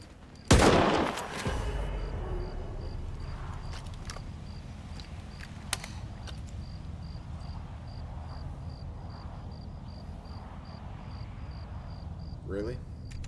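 Gunfire in the S.T.A.L.K.E.R. 2: Heart of Chornobyl video game, opening with a loud burst of shots followed by scattered sharp reports over a steady droning ambience with insect-like chirping.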